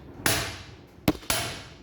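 A thump hammer strikes a part on a 1962 Land Rover Series 2A under restoration, three sharp metallic blows with ringing decay, the first two spaced apart and the last two close together, near and loud with no voices.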